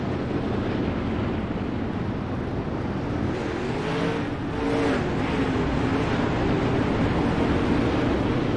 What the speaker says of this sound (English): I try to keep the car sounds up enough to where you can hear.